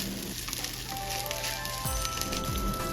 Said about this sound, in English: Let's add now the vegetables and continue to mix it.